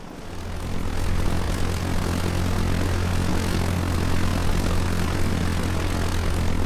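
A UAV drone engine in the Arma 3 video game spools up for takeoff, a loud, steady propeller-like drone that swells in the first second and then holds constant, with no talking.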